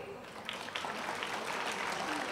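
A dense wash of audience applause at an educational finance class, steady and moderately distant, with a voice faintly present beneath it.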